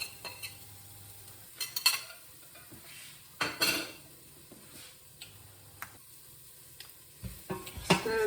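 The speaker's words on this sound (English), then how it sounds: "Now I'm going to add the chopped garlic, the chopped red chilli, and the garlic salt." Chopped garlic and red chilli frying in a pan, with scattered spoon taps and clinks against the metal over a faint sizzle, close and intermittent.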